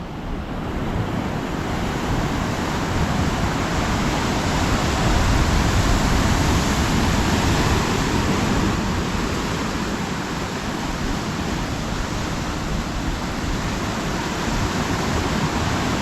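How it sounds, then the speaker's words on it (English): Heavy ocean swell crashing against sea cliffs on the Big Island, a continuous loud roar of surf with wind buffeting the microphone throughout, no voices. "This is the power of the ocean."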